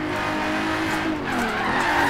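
Car braking hard into a corner in Forza Horizon 3, a Regalia build, tires squealing loudly and continuously over the engine for about two seconds.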